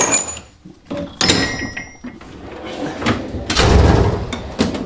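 A drawer sliding open in a professional bicycle framebuilder's shop: scattered clanks of metal tools and knocks, then a longer rolling rumble as the drawer runs out, fairly close and loud, with a voice speaking between.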